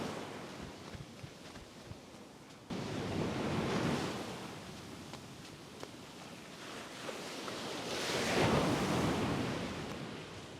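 Ocean waves roll in at high tide on a black sand beach in Bali, a steady far-off wash of surf that swells louder toward the end, with wind noise mixed in.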